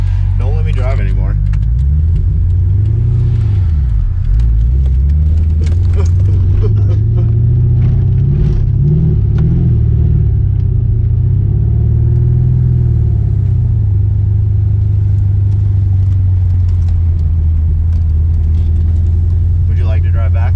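A new manual-transmission car's engine rumbles steadily up close while driving, its pitch rising and falling as it revs, with people talking over it most of the time.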